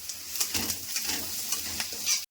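Onions sizzle in hot oil with whole cumin and a bay leaf in a pan, a steady crackling fry with a few stirring scrapes, close and moderately loud, no talking.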